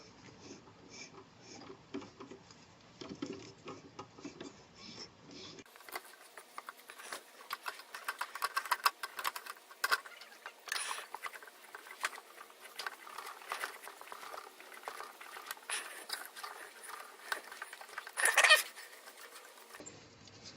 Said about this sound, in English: I'm going to put some mineral oil on that to cut the threads